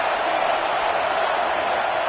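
Dense, steady roar of a football stadium crowd at Ohio State vs Georgia, a broad continuous wash of many voices with no single voice standing out, loud and unbroken throughout.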